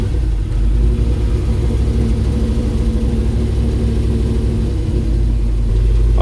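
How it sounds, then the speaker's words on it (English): Truck with a carbureted turbo LS V8 engine running after start-up, a loud, steady low rumbling idle throughout with no speech. "I'm going to go ahead and start the truck up and make sure the truck engages and disengages properly."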